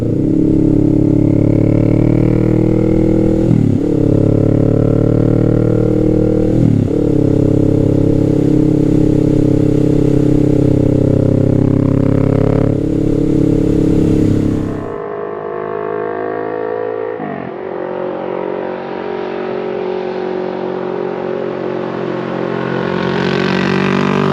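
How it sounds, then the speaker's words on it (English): A Kawasaki Z650 midsize motorcycle under way, its engine droning steadily and loud with a few gear-change dips, then the pitch drops and climbs again as it accelerates, heard close with wind rush and no talking. "The bike picks up power very smoothly when you go from closed throttle to open throttle."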